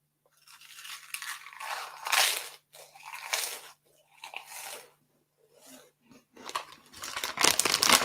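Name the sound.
crunching massive crisps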